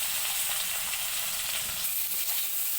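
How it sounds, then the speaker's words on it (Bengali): Turmeric-and-salt-coated fish fries in oil in a kadai, giving a constant bright sizzle and crackle with soft spattering pops, close and unbroken, no voices. "এখন কড়াইতে দিয়ে ভাজবো। এই দেখেন বন্ধুরা, কড়াইতে দিয়ে দিচ্ছি এখন"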